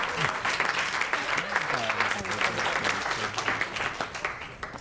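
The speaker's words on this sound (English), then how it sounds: "give him a round of applause" Steady applause from an audience at a graduation dinner, a dense wash of clapping lasting several seconds, with voices murmuring and talking underneath.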